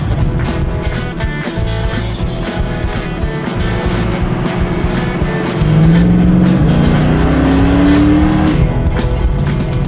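A Dodge Challenger with faded, vanishing paint drives on the road, its engine a loud steady drone that rises in pitch as it accelerates in the second half.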